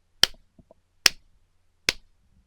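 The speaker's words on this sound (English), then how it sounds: "And the claps will go something like this." Three loud, sharp hand claps spaced about evenly, each a single crisp crack standing alone in an otherwise quiet room, used as a cue marker while recording.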